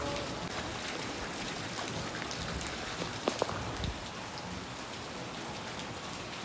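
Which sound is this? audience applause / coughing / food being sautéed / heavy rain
heavy rain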